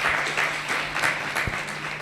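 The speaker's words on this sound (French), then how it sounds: "sous vos applaudissements" A crowd at a school graduation ceremony applauds steadily, many hands clapping together in a dense, continuous patter at moderate volume.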